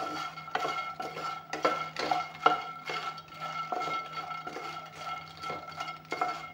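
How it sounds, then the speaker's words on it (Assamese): Makhana (fox nuts) are stirred and fried in a pan, with a utensil scraping and clinking against the metal in uneven, repeated knocks over a faint sizzle, close by with no talking. "মাখানাখিনি অলপমান ভাজি ল'ম।"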